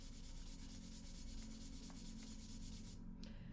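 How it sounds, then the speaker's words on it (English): Fine 400-grit sandpaper is rubbed in quick, even back-and-forth strokes to polish a part on a reed machine, a soft rhythmic scratching heard up close, with a short pause near the end. "now you can use the finer sandpaper, the 400 grit, to polish it just a little bit more"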